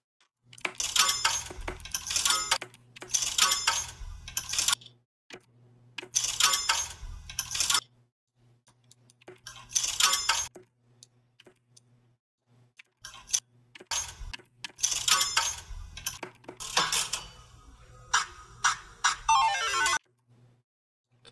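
Slot machine sound effect, bursts of bright clinking, jingling chimes of a spinning reel, repeated in bursts of a second or two with quiet gaps between, ending in a quick descending sweep.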